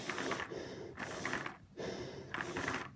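A small Lego inline two-cylinder vacuum engine runs on breath suction, giving a faint, soft mechanical clatter in three regular pulses with airy breathing between them.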